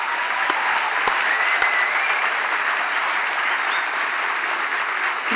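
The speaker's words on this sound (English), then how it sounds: "can we take one more round of applause for our senior speakers?" A large crowd applauds at a high school commencement ceremony, a steady, unbroken wash of clapping from many hands that holds at an even level throughout.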